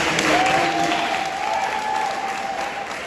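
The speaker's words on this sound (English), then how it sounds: "let's give them a round of applause." Audience applause at a school graduation ceremony, a steady wash of clapping from a crowd that is loudest at the start and gradually tapers off, with a faint sustained tone running underneath.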